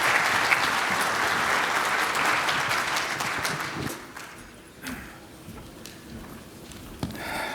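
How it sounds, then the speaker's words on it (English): A dense round of audience applause at a keynote luncheon seminar on mobile technology, loud and sustained at first, then thinning into scattered individual claps and faint room noise. "let's have a round of applause for these guys"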